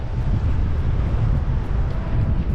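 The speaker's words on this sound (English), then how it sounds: "It's getting windy." Steady wind gusts buffet the microphone outdoors near a water tower, a loud continuous low rumble with no speech.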